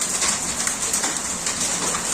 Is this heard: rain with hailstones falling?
yes